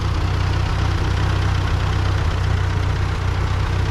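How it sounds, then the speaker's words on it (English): An old Ford 2N or 9N tractor engine runs steadily while plowing a potato field with a V-plow, a loud, continuous low mechanical chug with no pauses. "I'm using the tractor here, the old tractor, to do the plowing."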